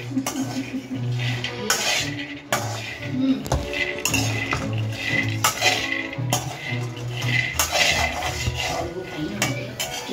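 Peanuts dry-roasting in a metal kadai are stirred slowly and steadily, a continuous rattle and scrape of nuts and spoon against the pan with frequent clinks, close and fairly loud.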